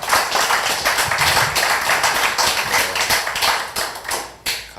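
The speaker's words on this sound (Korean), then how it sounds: "감사의 박수를 다시 부탁드리겠습니다" An audience at a seminar lecture hall applauds, a dense burst of clapping from many hands that swells and fades over several seconds, fairly close and without talk.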